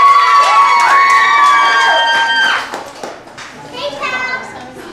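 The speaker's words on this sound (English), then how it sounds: "Please give a nice warm round of applause for Jonathan Brun." An audience at a talent show cheers and applauds a performer, with loud whoops and shrill high shouts over clapping at first, then settling into quieter scattered clapping and voices.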